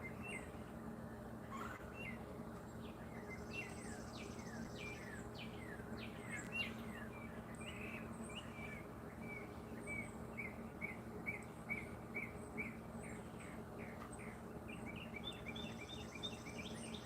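Birds sing at dawn outdoors, a faint, distant chorus of chirps and tweets over a low steady hum, with no voices.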